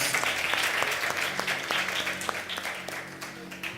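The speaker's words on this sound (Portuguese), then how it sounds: "Você pode aplaudir Jesus?" Audience at a church service applauds, a dense wash of many hands clapping steadily at moderate volume, tapering slightly toward the end.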